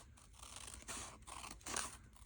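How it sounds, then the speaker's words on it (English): Scissors snip through paper, trimming small quarter-inch ends and cutting at an angle, with several short crisp cuts close by and no talking. "I'm just going to cut the 2 little 1/4 inch ends off, cut this at an angle, and then cut along this line here"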